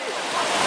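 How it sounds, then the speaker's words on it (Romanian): Atlantic Ocean surf at Cascais, Portugal, washes onto the shore as a steady, broad hiss of breaking water with some wind, close and fairly loud throughout the short moment. "Oceanul Atlantic."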